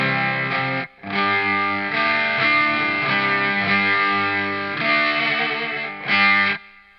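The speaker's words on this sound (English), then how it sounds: "And that's how you get a clean sound on this." Clean electric guitar chords through a Peavey Windsor amp, ringing sustained strums played alone at moderate volume with a short gap and a final held chord.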